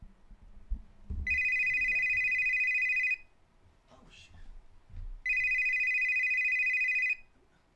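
A telephone rings with two long electronic bursts of about two seconds each, separated by a pause, loud and clear over faint background movement.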